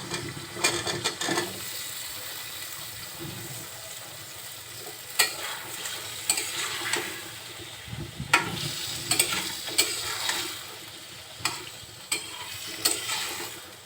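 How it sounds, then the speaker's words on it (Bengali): Sweet pumpkin pieces tipped into spice paste frying in oil, a prawn and pumpkin dish, giving a steady close sizzle broken by repeated scraping and stirring clatters from the spoon. "কষাতে কষাতে যখন মশলা থেকে তেল ছাড়া শুরু করেছে, এখন দিয়ে দিচ্ছি মিষ্টি কুমড়াগুলো"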